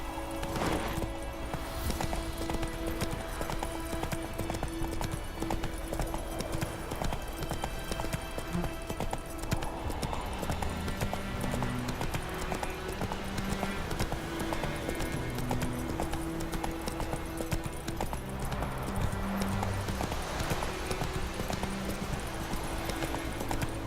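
The horse Roach's hooves in The Witcher 3, a steady stream of clip-clopping that runs throughout under music and ambient game sound, with faint talk in the background.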